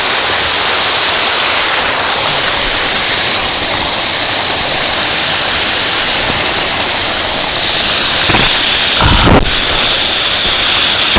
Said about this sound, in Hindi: कितना ठंडा पानी और कितना सुंदर झरना।